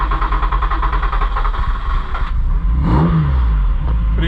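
A car engine with individual throttle bodies idles with a lumpy, clattering rhythm, then blips the throttle once in a brief rising rev before settling back.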